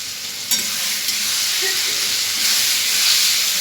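Tomato and green chili fry in a pan with ginger, making a continuous close sizzle with a few faint stirring clicks and a slight rise in hiss toward the end, without speech.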